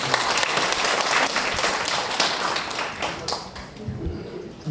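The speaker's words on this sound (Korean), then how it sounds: "박수 한번." Residents' meeting audience in Sadang-dong clapping together, a dense burst of applause that holds steady then thins out toward the end of a short stretch.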